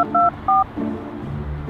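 Phone keypad dialing tones, a few distinct two-tone beeps in quick succession, loud and clean, followed by low background noise with no talk.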